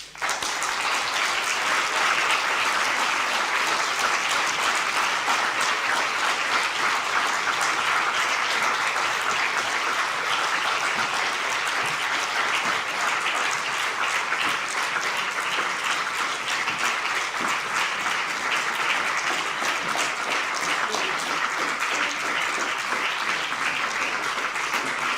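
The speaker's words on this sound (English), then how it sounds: "I really think we should keep that applause going for a long time" A lecture hall audience applauds at the end of an inaugural university lecture, a dense, sustained and fairly loud wash of clapping lasting about twenty-five seconds without pause.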